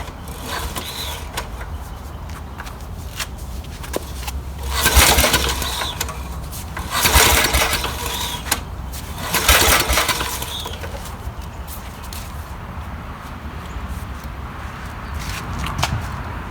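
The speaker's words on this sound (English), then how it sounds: "All right, I'm gonna go ahead and pull, see what happens." The engine of a 1972 Snapper Comet 26 riding mower is pull-started with no success, giving three separate rattling, cranking bursts a few seconds apart, with outdoor shuffling in between.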